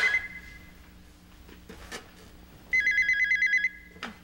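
An old-style telephone bell rings indoors in a Korean drama scene: a short ring at the start, a longer ringing burst in the middle, and a brief chirp at the end, with quiet room tone between.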